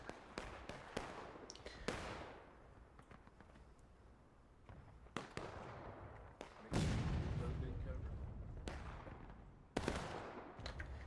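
Musket gunfire from Civil War infantry in a video game battle: scattered, independent shots crack at irregular intervals, some close and sharp, others distant and muffled, over a continuous rumbling battlefield background.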